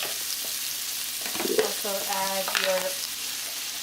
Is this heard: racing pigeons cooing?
no